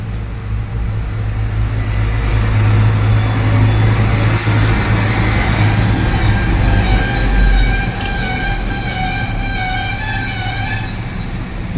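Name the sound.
loud passing traffic and vehicle noise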